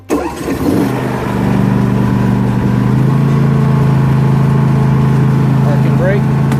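A 2021 John Deere S220 lawn tractor engine cranks and catches, then settles into a steady, loud mid-pitched running drone close by, continuing without a break.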